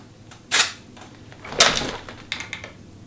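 Two short hissing bursts of dry shampoo aerosol, close and fairly loud, the second a little longer, followed by a few light clicks.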